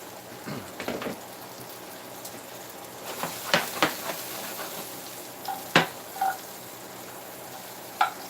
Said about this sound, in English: I take what I have left, toss right back in that pan, and cook the rest of